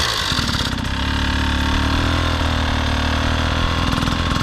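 Dirt bike engine held steady at the clutch friction zone, a loud continuous mid-pitched drone with little variation in note, close by and alone.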